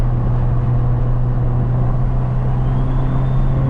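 A single-turbo BMW N54 335i drives under steady load, giving a continuous droning engine hum with a faint rising whine inside the cabin, even and fairly loud with no voices.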